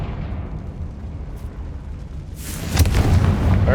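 Confringo spell going off in Hogwarts Legacy, a low roaring rumble that swells into a bright fiery blast with crackling bursts near the end, loud and close, no talk.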